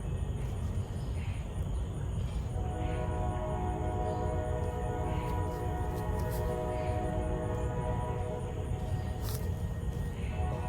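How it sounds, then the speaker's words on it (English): A distant train rumbles past a home garden, a steady low roar with faint sustained horn-like tones running throughout, continuous and unchanging with no voices. "Y'all heard the train, but it's not coming my way, which is a good thing."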